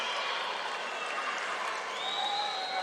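A home crowd at a judo Grand Slam event in Baku cheering and applauding a submission, a dense, sustained wash of clapping and cheers filling a large arena.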